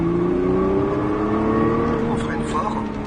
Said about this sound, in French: Vas-y, on réaccélère.